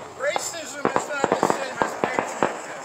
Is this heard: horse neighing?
no